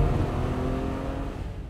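A car engine drones loudly and steadily as the vehicle speeds off in a hurry, its tone holding and then easing slightly toward the end, with no voices.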